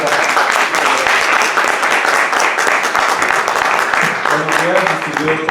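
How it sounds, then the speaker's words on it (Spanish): A lecture audience gives sustained, dense applause welcoming the chemist Joaquín González Monroy to the stage for a talk on antibiotics. The clapping is loud and continuous, with a few voices faintly audible toward the end. "Recibamos al químico Joaquín González Monroy con un fuerte aplauso."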